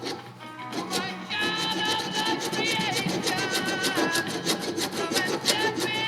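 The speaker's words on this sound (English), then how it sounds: "You want some coarseness of the file to take that nylon or plastic, whatever that's made out of." A coarse file rasps rapidly back and forth across nylon or plastic on a stock big block Chevy valve cover, a steady run of close, gritty strokes with no talk over it.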